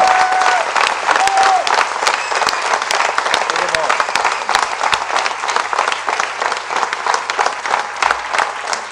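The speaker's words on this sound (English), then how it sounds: "I request you to join me in a big round of applause for him." Conference audience gives a long, hearty round of applause, many hands clapping close and loud with scattered cheers and voices mixed in, continuing for nearly nine seconds.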